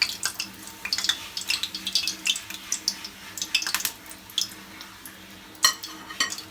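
Fried jackfruit fritters are lifted from hot oil with a slotted metal spoon: quick, light clinks and scrapes of metal against the pan sound close by over a faint background of frying.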